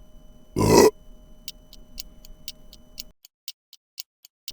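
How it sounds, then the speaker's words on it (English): A single loud, low burp stands alone in a quiet room, followed by faint, evenly spaced ticking. "Burping in public without saying excuse me is rude."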